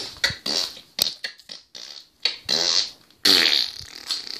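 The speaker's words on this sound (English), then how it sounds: "just farted" A rapid series of loud, close fart sounds in uneven bursts, some short and some drawn out, with a longer, stronger one near the end.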